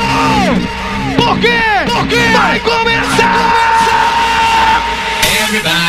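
A carnival bloco party crowd shouts and whoops in loud, overlapping bursts of yells that sweep up and down over a continuous dense din, with a voice calling out among them.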